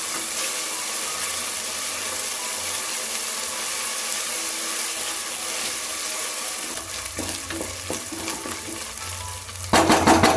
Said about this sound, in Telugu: ఇలా ఫ్రై చేసుకున్న తర్వాత 1 టీ స్పూన్ అంతా అల్లం వెల్లుల్లి పేస్ట్ వేసుకొని పచ్చివాసన పోయేంత